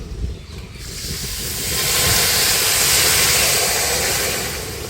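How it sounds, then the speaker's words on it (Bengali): Water poured onto sugar in a hot pan while making syrup for danadar sweets sends up a loud, steady hiss of steam that swells and holds for several seconds, close by. "এই বাটি দিয়ে 1 বাটি জল দিয়ে দিচ্ছি।"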